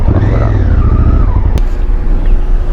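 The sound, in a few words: motorcycle being parked outside the Iranian embassy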